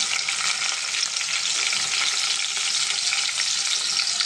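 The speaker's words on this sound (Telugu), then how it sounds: "తర్వాత ఎండు రొయ్యలు వేద్దామండి." Dried shrimp frying in hot oil in a pan, a steady loud sizzle with soft stirring scrapes, continuous throughout with no talk.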